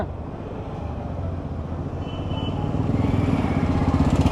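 A Honda Activa scooter engine hums steadily on a road, its buzzing drone growing louder and closer toward the end, with no talk over it.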